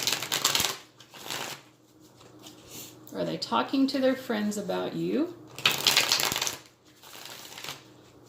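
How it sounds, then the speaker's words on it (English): Tarot cards are shuffled close up in fast riffling bursts at the start and again near the end, while a person speaks in the middle. "So let me shuffle real quick."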